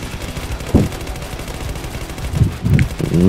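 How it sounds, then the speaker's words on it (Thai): Rapid automatic gunfire rattles in Zombie Uprising during a boss stage crowded with zombies, fired from a raised spot in short dense bursts over a continuous game soundscape. "ปืนก็ดูแบบ ยิงรัวมาก ไป ยิงให้หมดยิงให้หมด"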